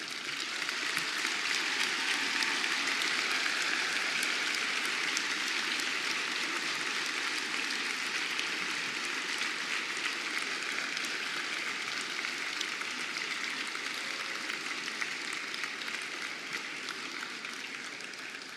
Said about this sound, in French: je vous demande de vous lever, de vous tourner vers vos diplômés et de les applaudir chaleureusement